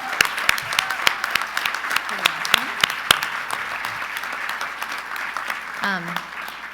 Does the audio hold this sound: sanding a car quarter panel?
no